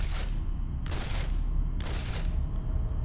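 Enemy gunfire in the video game Condemned: Criminal Origins, with broadband bursts of shots rattling in quick succession under a constant low rumble, loud and close throughout.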